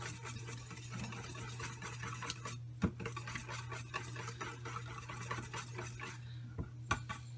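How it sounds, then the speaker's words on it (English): Melted butter, vanilla extract, eggs and sour cream being stirred together in a bowl for chocolate chip banana bread, a steady soft scraping and swishing with occasional sharper clinks of utensil against the bowl, heard alone against a low steady hum. "And then you put all your wet ingredients together and mix that."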